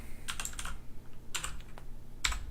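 Typing on a computer keyboard, three short bursts of quick clicking key presses, close and fairly quiet, separated by brief pauses.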